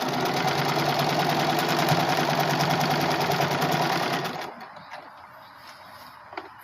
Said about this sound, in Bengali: এইভাবে পুরোটা আবার সেলাই করে দেব